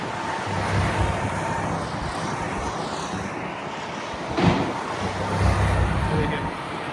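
Go-karts racing on an outdoor track in Melbourne, engine drone rising and fading as karts pass, with one brief sharp burst midway; steady background roar throughout, no voices clearly standing out.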